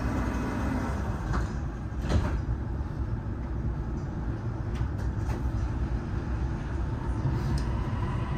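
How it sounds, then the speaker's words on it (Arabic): Dubai Metro train, a steady low rumble of the moving carriage with a few faint clicks and thumps as the doors close, heard from inside without anyone speaking. "Doors closing."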